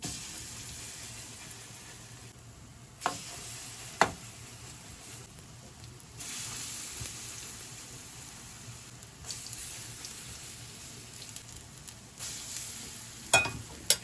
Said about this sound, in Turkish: Kalan patateslerimizi de aynı yöntemle pişirmeye devam edeceğiz.